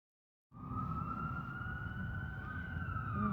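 A wailing ambulance siren starts abruptly and holds steady, its pitch shifting slightly as the ambulance passes by at moderate distance.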